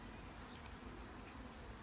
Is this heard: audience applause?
no